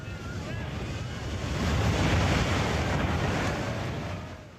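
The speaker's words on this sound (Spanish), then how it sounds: "Es una descomunal avalancha de agua que no deja nada en pie cuando golpea la costa." Tsunami waves crash onto a coast in a continuous roaring wash of surf. Heavy wind buffets the microphone, and the roar swells louder through the middle before easing slightly at the end.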